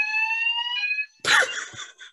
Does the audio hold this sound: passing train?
no